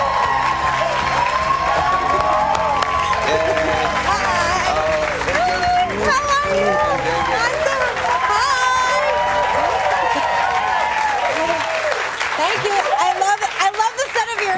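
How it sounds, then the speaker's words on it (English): A studio audience on a television talk show applauds and cheers loudly and steadily for the full stretch, with whoops rising over the clapping and voices mixed in near the end. "Please give a round of applause for Meghan McCain on The Van Jones Show"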